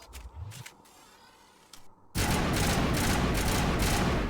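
Assault rifle burst fire in Mass Effect Legendary Edition: after a few quiet clicks, a sudden loud, dense stream of rapid shots fills the second half without pause.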